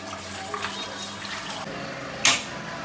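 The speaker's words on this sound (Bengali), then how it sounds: "হালিমের মাংস কিন্তু আমি কালকে কেটে সুন্দর করে ধুয়ে রাখছিলাম আজকে আর একটু ধুয়ে নেই" Tap water running while meat for haleem is rinsed, a soft continuous splashing stream with a brief louder splash near the end.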